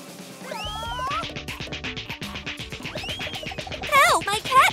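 A cat in a children's pet adventure meows repeatedly in rising, wavering cries, close and fairly loud, layered over lively background music and effects.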